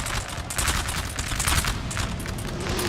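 Massed musket volleys crackle in a Napoleonic online battle from Napoleon: Total War, as infantry and grenadier lines fire, giving a dense, rolling fusillade of overlapping shots, loud and continuous.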